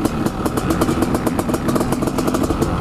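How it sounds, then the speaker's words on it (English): A 1990 Honda CR500 two-stroke motorcycle engine sounds up close, loud and rapid, its steady crackling putter pulsing evenly throughout. "I'm riding this 1990 Honda CR500."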